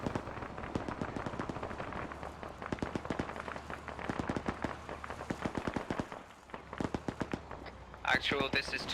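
Rapid automatic rifle fire in Arma during a UNITAF operation in Syria, a string of sharp, close shots in quick bursts that nearly fills the span, with radio chatter from players at the end.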